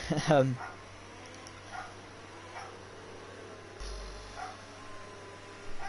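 A dog yelps and whimpers in a short, high burst near the start, then gives fainter, sporadic yips in the background of an otherwise quiet room.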